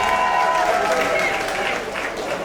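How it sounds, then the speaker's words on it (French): Crowd applause for the president during a visit of the King of Bansoa in Paris, a loud mass of clapping and cheering voices, with a few tonal calls rising above it. "Applaudissez très fort pour Monsieur le Président"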